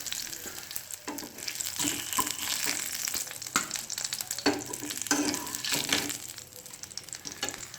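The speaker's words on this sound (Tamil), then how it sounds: "நம்ம மசாலா தடவி வச்ச எல்லா மீனுமே இந்த மாதிரி வறுத்து எடுத்துக்கலாம்" Masala-coated fish sizzles and fries in a pan over a village fire, a close, continuous crackling hiss with occasional stirring scrapes and bursts.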